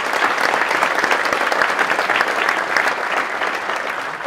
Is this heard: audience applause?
yes